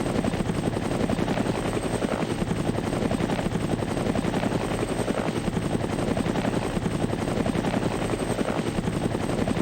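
A video game helicopter from Indigo Prophecy / Fahrenheit on PlayStation 2 thuds with a loud, continuous rotor chop, its steady rapid pulsing filling the scene with no pauses.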